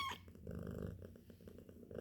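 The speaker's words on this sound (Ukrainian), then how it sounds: "Хороша кітюнька, чуєте, як мурчить." A kitten rescued after being abandoned at a petrol station purring close up, a soft continuous rumbling throb with a faint rhythmic pulse, heard alone without talk.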